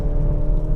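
A Skoda Octavia RS245's 2-liter turbocharged engine hums low and steady while driving on tight roads, a continuous close rumble with no voices.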